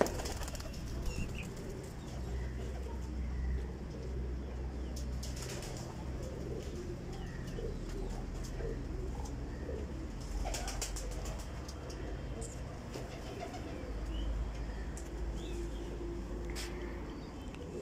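Pigeons kept by a breeder flap their wings in several sharp bursts and coo softly nearby, against a low background hum.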